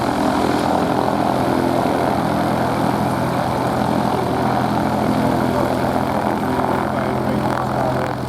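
A propeller aerobatic plane flying at an airshow at Maxwell AFB in Montgomery, Alabama, drones loud and close with a steady buzzing engine tone and slight pitch shifts, holding continuously throughout.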